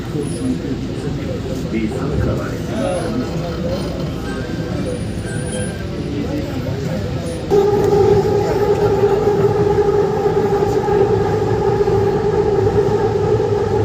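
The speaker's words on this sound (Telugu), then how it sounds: "అమీర్పేటలో అయితే మెట్రో ఎక్కేసాను మెట్రో పక్కన అలా లొకేషన్స్ చూడండి మెట్రో వెళ్తుండగా" A Hyderabad metro train runs near Ameerpet with a steady, loud rolling rumble; midway a sustained motor hum rises and holds, all under continuous talking.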